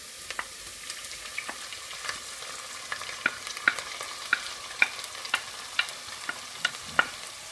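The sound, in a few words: chopped liver frying and stirred with onions in pot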